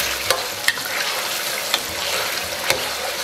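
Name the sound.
chili sauce, bean paste and fermented tofu stir-frying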